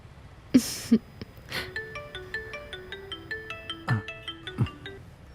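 A melodic phone ringtone plays a repeating pattern of bright electronic tones, with a few soft knocks and rustles around it.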